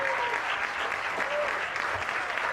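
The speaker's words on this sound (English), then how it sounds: "A big round of applause." Audience applause at a charity golf event dinner, a steady, dense wash of clapping filling the room, with a few voices calling out underneath.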